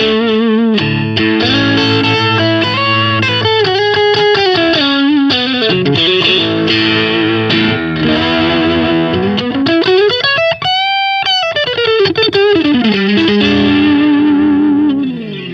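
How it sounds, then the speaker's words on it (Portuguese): Electric guitar through a first-stage overdrive, played continuously and loud with bends and slides, a light chorus-like shimmer and reverb tail on sustained notes, no talking. "um drive de primeiro estágio pra galera dar uma sacada legal"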